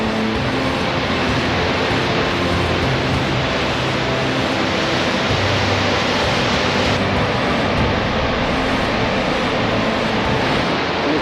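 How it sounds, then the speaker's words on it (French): Dettifoss, the powerful waterfall in northeast Iceland, roars as a loud, dense, continuous rush of falling water, steady throughout with no voices. "On est arrivé à la deuxième chute d'eau là, la fameuse chute d'eau de Détifos. Ça envoie du lourd"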